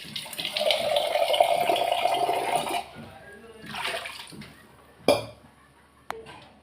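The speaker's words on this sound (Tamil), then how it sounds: "கொஞ்சம் தண்ணி மட்டும் ஊற்றிக்கலாம்." Water is poured from a vessel into a cooking pot holding dissolved tamarind in a home kitchen, a steady splashing stream lasting about three seconds, followed by a few softer pours and sharp clinks.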